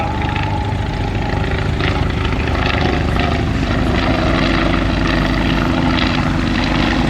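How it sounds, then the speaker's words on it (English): A Fokker DR-1 triplane flies past with a steady, loud propeller engine drone that holds level throughout, heard alone without voices. "the last airplane to return will be the DR-1 triplane"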